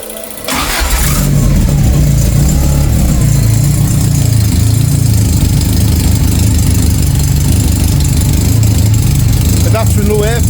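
Ford Fiesta XR2 4x4 running on a borrowed standard ECU with no intercooler or airflow meter fitted, cranking briefly then catching and settling into a loud, steady idle close by.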